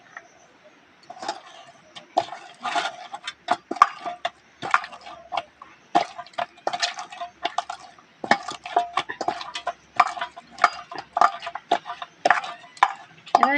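Cake dough being kneaded by hand with oil for a Mathura-style fair cake: irregular slapping, pressing and clacking against a bowl, fairly close and loud, in uneven bursts.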